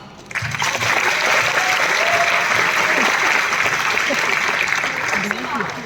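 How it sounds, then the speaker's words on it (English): A college fest crowd at IIT Guwahati's Alcheringa bursts into loud, sustained clapping that starts abruptly, holds steady and tapers slightly at the end, with a voice speaking faintly beneath it. "A big round of applause"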